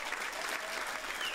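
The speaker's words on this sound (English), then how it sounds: "I'm giving you a round of applause, guys" A crowd claps steadily through a Minecraft livestream event, a dense, even roar of many hands at moderate loudness with no clear pauses.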